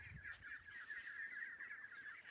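Geese on a backyard farm calling, a steady nasal honking chorus held through the whole stretch at moderate distance, with no talk over it.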